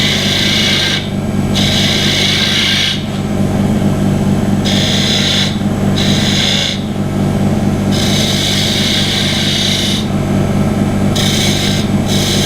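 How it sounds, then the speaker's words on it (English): A fingernail gouge detailing a wooden kendama spinning on a woodturning lathe. A steady lathe hum runs under repeated scraping cuts that come in bursts of a second or two, with short pauses between them. "Put a little bit of detail on it with my fingernail gouge."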